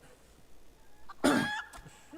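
A chicken in Final Fantasy XIV gives a single short, loud cluck over quiet game ambience.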